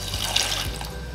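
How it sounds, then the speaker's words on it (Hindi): Half a cup of water poured into a pan of jaggery and sugar, a short, close splashing pour lasting about a second. "और अब मैं इसमें ऐड करूँगी 1/2 कप पानी"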